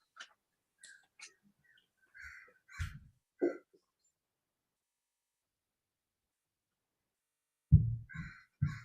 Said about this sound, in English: The crows were going crazy.